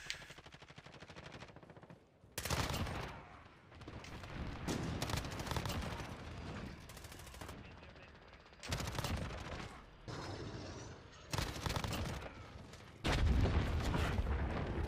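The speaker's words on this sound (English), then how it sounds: "I don't like long shots on SMG." Bursts of MP5 submachine gun fire in a first-person shooter video game, loud rapid volleys separated by quieter stretches, with several long sustained sprays and shorter clusters of shots.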